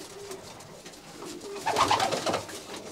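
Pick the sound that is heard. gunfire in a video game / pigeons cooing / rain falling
pigeons cooing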